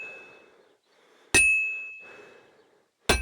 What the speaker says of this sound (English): 3 hours of Henry stop-start whistling and smashing the shit out of a bit of metal